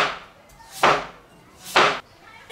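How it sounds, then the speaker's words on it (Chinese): Slices cut from a peeled potato on a cutting board, two separate knife chops landing about a second apart, each a sharp close thud followed by brief quiet. "准备一个去皮的土豆，也是给它切成片"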